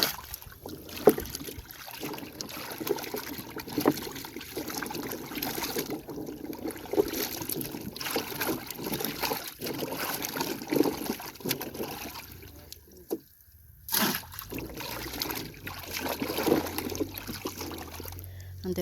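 Freshly harvested carrots being rinsed in a water container: repeated close sloshing, splashing and dripping in irregular bursts, with a brief quiet pause before the swishing resumes.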